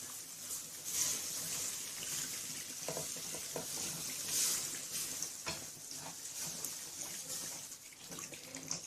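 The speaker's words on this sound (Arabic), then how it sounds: "وهجيب ميه بسم الله ونقلب كويس جدا طبعا" Water is poured into a pan of beef piccata sauce with soy sauce and mushrooms, then stirred, giving a soft bubbling sizzle and quiet scraping close by at low volume.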